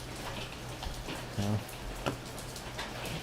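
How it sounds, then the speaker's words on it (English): Rain pours steadily, a dense close patter with a few sharper drops or hail ticks standing out, continuous throughout without any voices. "yeah, she's pouring and hailing."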